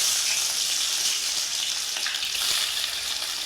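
Chopped onions hit hot oil in a pan for an egg and fenugreek bhaji, giving a steady bright hiss and crackle of frying with occasional small pops and no talking.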